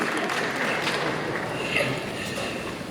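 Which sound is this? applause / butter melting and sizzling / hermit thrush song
applause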